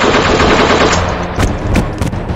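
Rapid machine-gun fire from a comedy skit, a loud dense burst lasting about a second and a half. A few separate sharp shots follow, with no speech over them.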